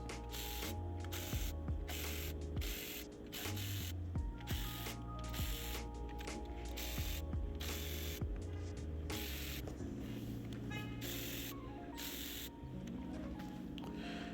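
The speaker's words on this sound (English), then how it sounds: "I'm going to use some Milwaukee ratchet to speed up the process." A Milwaukee power ratchet buzzes in quick repeated bursts while removing valve cover bolts on a 2016 Chevy Trax engine, steady mechanical whirring with rapid clicking, close and continuous throughout.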